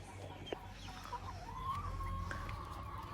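Hungry farm chickens let out of their coop, clucking faintly and intermittently at a distance over a low outdoor rumble.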